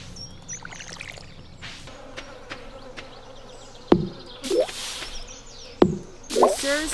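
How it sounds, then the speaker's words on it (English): Bees buzz in the Stardew Valley video game, a faint steady insect hum running under scattered game sounds, sharp clicks and splashy effects. "And we got the bees are back."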